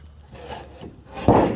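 A wooden decking board on a 16 ft utility trailer scrapes and rubs as it is dropped in and pushed over into place, soft sliding friction ending in a louder thud and drag, close up, without talking.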